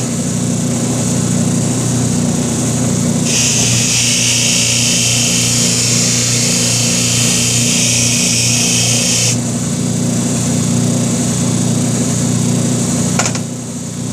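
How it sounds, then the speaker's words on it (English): Buffing wheel spinning steadily against a Harley-Davidson BigDog oil tank top cover, a loud continuous motor drone with a brighter whirring polishing layer that rises for several seconds mid-run and then drops back, no talking. "let's put that on a buffing wheel"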